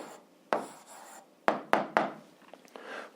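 Pen writing an answer on paper, close up: a few quick scratching strokes in short bursts with small pauses between them, quiet and with no voice.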